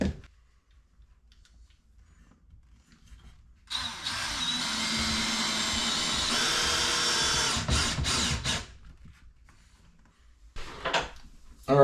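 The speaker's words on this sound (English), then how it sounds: "I got to drill a hole through the floor." A power drill bores a hole through a floor during a dishwasher installation, a loud steady whirring burst of about five seconds in the middle, set between quieter stretches.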